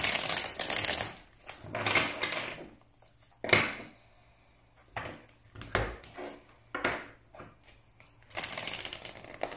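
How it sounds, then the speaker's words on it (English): Tarot cards being shuffled by hand in repeated riffling bursts separated by short pauses, crisp and close. "You guys saw me shuffle. I shuffled a bunch of times."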